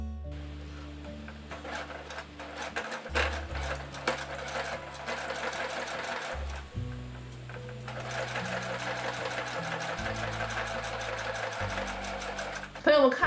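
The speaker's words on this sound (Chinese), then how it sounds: "考验一下啊，看看前段时间买的这缝纫机啊能不能过" Home sewing machine running a line of stitches through a very thick stack of layered fabric for a saddle bag, using a size 110 needle and a standard presser foot, with steady bursts of motor whir and needle clatter and a voice talking over it.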